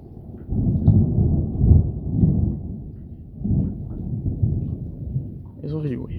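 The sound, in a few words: thunder from a strong supercell thunderstorm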